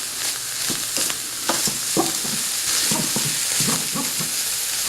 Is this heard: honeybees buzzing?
no